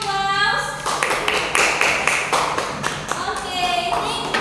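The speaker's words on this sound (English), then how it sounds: "Okay, Alisa and Nofri, give applause." Children clap their hands in a classroom in a few uneven bursts, with a kid's voice and other talk heard faintly over and between the claps.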